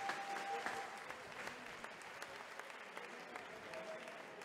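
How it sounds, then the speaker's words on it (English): Applause from a fight-night crowd at an Adler FC mixed martial arts event, steady clapping that swells and holds across the hall while a fighter gets back to his feet. "Mesdames et messieurs, vos applaudissements pour le combattant qui se relève."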